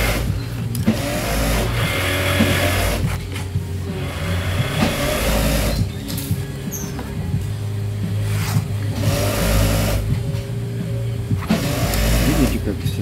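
A fur sewing machine stitches a mink coat, its motor whirring loudly in repeated bursts of a few seconds separated by brief pauses, with a person talking over it.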